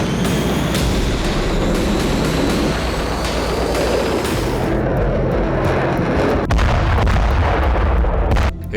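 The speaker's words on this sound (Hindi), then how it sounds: "यूक्रेन की सीमा में मौजूद एयर डिफेंस लॉन्चर्स आग उगल रही थी" Air defense launchers fire missiles in Ukraine, a loud, continuous roar of blasts and rumbling bursts that fills the air with no voices.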